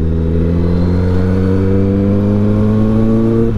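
Kawasaki ZX10R motorcycle, an accident-damaged one, riding on a road, with a loud, close engine drone holding a steady harmonic pitch that creeps slightly upward, no voices over it.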